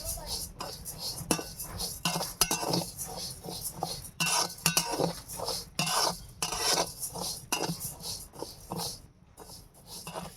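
Rice is stirred steadily as it roasts dry in a pan for coconut naru, a busy run of scraping, rattling grains and clinks from the utensil, fairly quiet and continuous.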